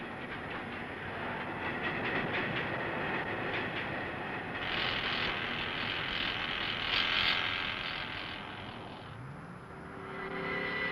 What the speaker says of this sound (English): the weld is trimmed with a pneumatic chisel